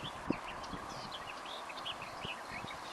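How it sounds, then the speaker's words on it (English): Faint birdsong chirps over a riverside walk, with scattered soft thumps and a steady background hiss. "you hear birds more"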